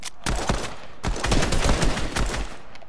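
Rapid bursts of automatic gunfire in a video game, loud overlapping shots aimed at the player, coming in several sustained volleys with brief gaps between them.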